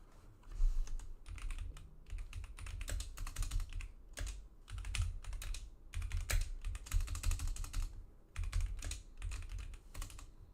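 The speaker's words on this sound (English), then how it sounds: "I can't type for shit." Rapid bursts of typing on a computer keyboard while writing a tweet, close and clicky, in uneven runs separated by short pauses with no talk.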